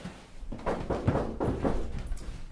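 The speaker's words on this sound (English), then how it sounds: "there came a knock at his door" A few hard knocks on an office door, irregular raps bunched close together, fairly near and loud in an otherwise quiet room.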